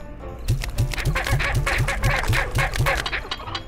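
Chickens in the video game Slime Rancher, giving a steady run of evenly spaced, loud clucking calls, close and continuous over a busy game background.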